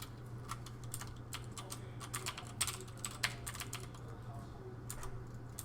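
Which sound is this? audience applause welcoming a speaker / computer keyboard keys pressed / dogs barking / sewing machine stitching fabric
computer keyboard keys pressed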